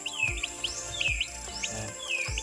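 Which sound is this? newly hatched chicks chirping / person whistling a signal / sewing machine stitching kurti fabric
newly hatched chicks chirping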